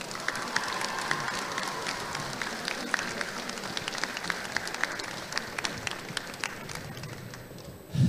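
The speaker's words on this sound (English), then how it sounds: "So can we get a round of applause for the teachers?" A school audience applauds for its teachers at a ceremony after the Harty Cup final between Cashel CS and Thurles CBS, a sustained roar of dense clapping that holds steady for the whole stretch and swells briefly at the end.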